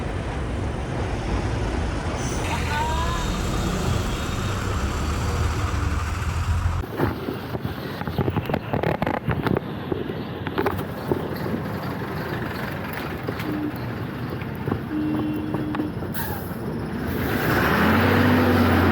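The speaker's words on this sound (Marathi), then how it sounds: "Full traffic jam." Stalled traffic on the Kasara Ghat mountain road: a continuous rumble of idling cars and trucks mixed with heavy wind buffeting the microphone, the noise shifting partway through as the scene moves.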